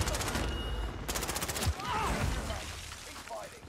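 Video game gunfire: dense, rapid automatic bursts sounding up close in a straight corridor, cutting off as excited voices talk over the action.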